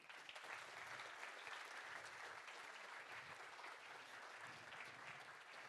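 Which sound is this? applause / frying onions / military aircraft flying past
applause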